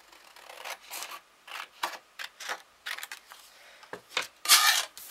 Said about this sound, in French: Ensuite, je vais couper les deux autres morceaux